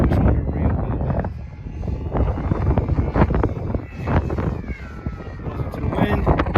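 Gusty outdoor wind rumbles and buffets the microphone during an FT Flerken RC plane flight, with a thin electric motor whine rising and falling faintly beneath it.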